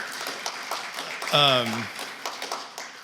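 An audience at a Palestine solidarity fundraiser claps for Palestine Legal: quiet, scattered claps with a short spoken exclamation in the middle.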